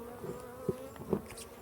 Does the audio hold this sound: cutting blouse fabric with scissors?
no